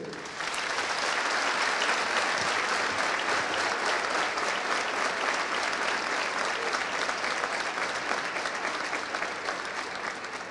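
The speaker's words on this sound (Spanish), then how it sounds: "Padres, madres, amigos, novios, novias, un aplauso para ustedes." A large audience at a Bolivarian National Police recruit induction ceremony applauds the recruits' families, a loud, dense, sustained round of clapping that swells and holds for about ten seconds.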